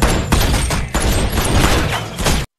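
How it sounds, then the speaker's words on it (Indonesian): Rapid bursts of gunfire, loud and close, with repeated sharp cracks and thumps in a chaotic fusillade that cuts off abruptly. "para pria itu melihatnya dan langsung melepaskan tembakan"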